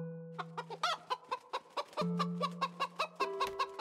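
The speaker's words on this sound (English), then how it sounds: "I'm not a big fan of that chicken, though" A chicken in the video game Korea Dynasty clucks in a rapid run of short, sharp calls, close and clear, with a few longer drawn-out notes between them.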